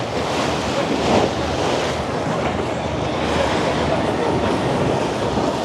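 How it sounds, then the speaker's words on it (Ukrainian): Stormy sea surf breaks on Lanzheron beach in Odesa, a loud continuous roar of waves with wind, close and unbroken, no talk. "зовсім скоро море ще більш буде розіграється"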